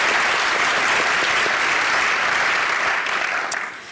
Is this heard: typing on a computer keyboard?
no